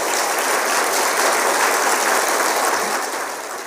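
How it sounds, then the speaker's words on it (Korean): A church congregation at a Wednesday worship service gives sustained, steady applause of welcome and thanks, filling the room evenly before tapering off near the end. "환영과 감사의 박수를 부탁드리겠습니다."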